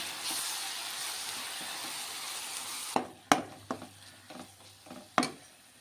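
Coconut, green chili, garlic, ginger and coriander fry in hot oil, a steady close sizzle for the first half, then quieter with several sharp scraping stirs and clacks of a spoon against the pan.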